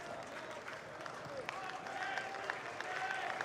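A baseball stadium crowd cheers and claps during a college game, a broad swelling roar of many voices rising toward the end, heard at a distance under a commentator's voice.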